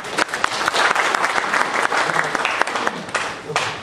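Applause from the audience at a 2015 shareholders' meeting, a steady wash of many hands clapping that holds for about four seconds, with some voices mixed in.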